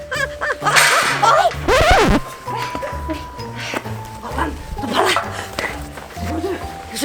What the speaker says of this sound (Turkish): Oğlum köpekler geliyor.